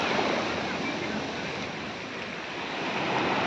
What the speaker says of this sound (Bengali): ঢেউগুলো যখন ভেঙে পড়ে